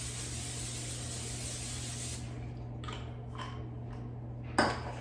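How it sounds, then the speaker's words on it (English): A steady hiss of non-stick cooking spray onto an air fryer basket runs continuously for about two seconds, then stops, followed by a few brief light spritzes and a small metallic clink. "spraying the air fryer basket with a non-stick cooking spray"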